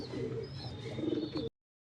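Pigeons coo softly in a loft, low soft calls mixed with a few chirps, fairly quiet and close, with no voices, ending abruptly after about a second and a half.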